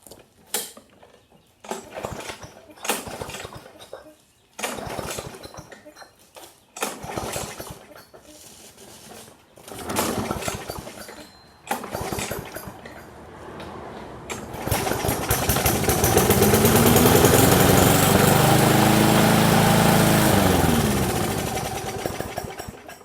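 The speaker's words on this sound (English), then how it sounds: "We're going to tie the throttle open, and then I'm going to get down here and I'm going to feed the carburetor." A series of intermittent clanks and knocks is followed by a small engine that starts and runs loudly and steadily for several seconds, its pitch swelling and then easing.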